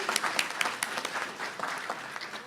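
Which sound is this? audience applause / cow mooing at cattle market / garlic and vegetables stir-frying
audience applause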